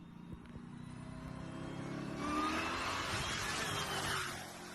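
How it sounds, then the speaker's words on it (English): Jeep Trackhawk supercharger whine rises as the engine revs, a thin high-pitched tone climbing over a swelling engine roar, fairly loud and close, then easing off at the end. "We got some good Supercharger whine, just like what we want."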